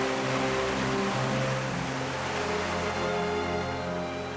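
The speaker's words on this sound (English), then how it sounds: "the largest man-made waterfalls in North America flow where steel, concrete, and glass used to be" Man-made waterfalls at the 9/11 Memorial, the largest in North America, pour into the reflecting pools with a steady, dense rushing roar that holds constant throughout and has no voices over it.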